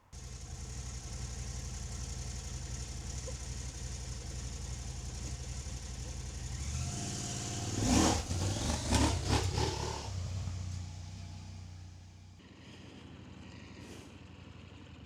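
A 2025 KTM 890 Adventure R motorcycle engine idles steadily up close, then revs in a loud burst of throttle blips before dropping back to a quieter idle, with no talking.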